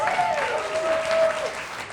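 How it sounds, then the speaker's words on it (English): Steady applause from an audience fills the whole moment, dense and even, with a faint tonal whistle drifting through it. "give them a big round of applause"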